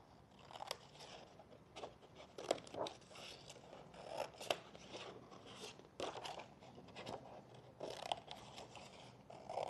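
Scissors snip through paper to cut out pointed paper teeth, giving repeated close, crisp cuts and crunching rasps in an uneven rhythm, quiet overall and with no talking.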